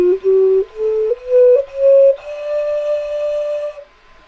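A xun, the Chinese clay ocarina, plays a slow rising scale with traditional fingering. Its breathy, pure tones step upward one by one and end on a long held top note, close and alone.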